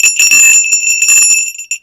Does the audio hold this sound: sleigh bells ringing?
yes